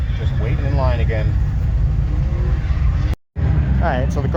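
Drift car running laps on a track's skid pad, engine revs and tire noise rising and falling in sweeping pitches, close and loud, with a brief dropout near the end.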